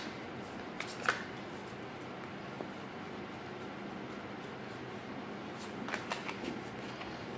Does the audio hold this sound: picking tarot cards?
yes